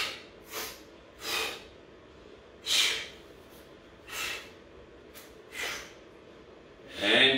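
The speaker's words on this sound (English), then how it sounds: "Breathe out." Forceful exhalations during a dumbbell workout come in six short, breathy bursts spaced roughly a second apart, close to the mic over a quiet background.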